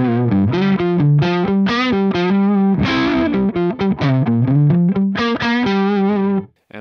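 Electric guitar through an Axe-Fx III Diezel blue amp model, a distorted, somewhat dull chordal and single-note riff with chorus-like effects, loud and close, alone before a sudden stop.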